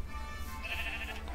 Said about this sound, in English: What is that, a gray sheep?